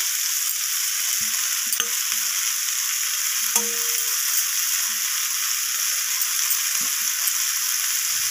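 Cauliflower and egg curry with coriander leaves and green chilli sizzles steadily in a pan, with soft scrapes and clinks as it is stirred, close and continuous with no talking.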